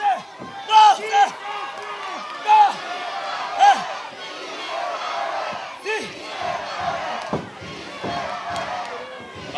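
Crowd noise at a lucha libre wrestling show, a packed arena swelling with shouts and cheers in repeated bursts as a wrestler works the audience, loud and continuous with chanting surges.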